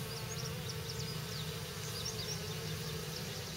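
Honeybees buzzing steadily around an opened hive during a check-up while a new shallow brood box is added, a dense, continuous hum with faint higher whines from individual bees passing close.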